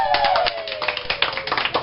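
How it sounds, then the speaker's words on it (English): A small group clapping for a manager being welcomed at an interview with a girl group, with distinct, uneven hand claps close by over a faint tone fading in the background. "A round of applause."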